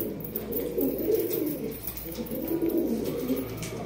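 A black high-flying pigeon coos in soft low throaty rolls, two or three phrases close by, over steady background noise.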